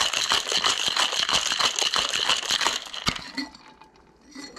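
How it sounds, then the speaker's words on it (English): Ice being shaken hard in a cocktail shaker while mixing a pink CHEE CHEE cocktail, a close rapid rattle of rhythmic clinks for about three seconds, then a final knock and quiet. "So I'm going to put that ice in there. Shake this up."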